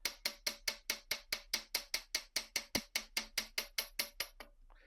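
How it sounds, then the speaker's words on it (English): A metal bracelet resting on a cloth is struck with a hammer about twenty times in an even, steady rhythm, each blow a sharp, close metallic tap that rings briefly. The hammering stops near the end. "And just going to hammer this."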